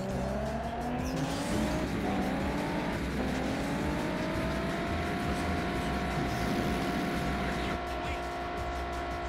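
Racing car engine from the Juiced 2 video game, a steady droning roar with rising and falling gear pitch and squealing tires, loud and continuous, with people talking faintly underneath.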